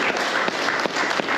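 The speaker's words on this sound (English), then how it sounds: "So I want everyone to just give Sam a bit of a round of applause." A seminar audience at a K9 dog-training event applauding, with steady, dense clapping filling the short stretch at close range.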